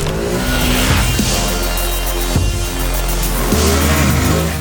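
A Ducati Hypermotard 950 RVE's L-twin engine in full power mode revs hard and continuously, loud and close, with the pitch rising and dropping through gear changes and no voices heard.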